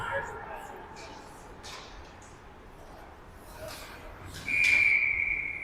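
Referee's whistle at a football game between Carshield and Omaha Mastery, one shrill sustained blast near the end, heard through crowd noise after a stretch of background commentary.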